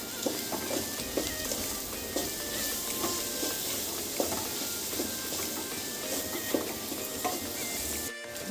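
Dabeli masala sizzles and roasts in a pan, a steady close fry with occasional spoon stirs and scrapes throughout, no voices.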